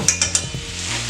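Onion, garlic and pepper stir-fry in hot fat oil with a soft sizzle, while three quick sharp taps and a few scraping stirs sound up close; nobody speaks.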